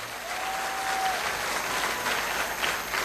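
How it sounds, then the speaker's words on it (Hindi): An audience gives hearty applause at a gathering, a continuous wash of many hands clapping at even loudness, fairly distant and steady, with no speech over it. "मैं चाहता हूं आप अपने लिए एक जोरदार तालियां बजाएं"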